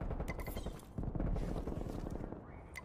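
SMG gunfire during a Call of Duty esports tournament match, with rapid bursts of automatic shots and other game effects layered close together, faint and dense throughout.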